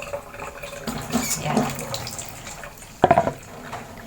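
A little water is poured onto aloe vera, a faint trickle and splash under quiet room noise, with a brief sharper splash near the end and a single short spoken word.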